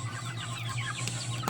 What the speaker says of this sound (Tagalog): mamahog kita sa atong mga alagang manok